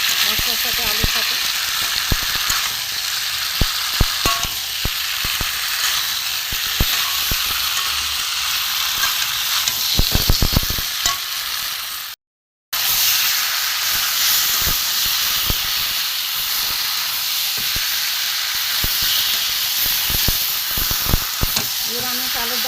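Small boiled potatoes with spices sautéed in a pan for a peas aloo dum, a loud steady hiss and sizzle with scattered stirring clatters, a brief gap midway, and a voice heard intermittently over it.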